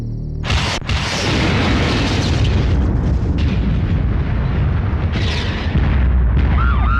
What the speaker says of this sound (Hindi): ट्रांसफार्मर उड़ा।